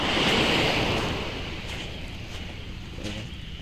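Strong surf breaks on a beach, a loud broad wash of waves with wind noise on the microphone, gradually easing over a few seconds.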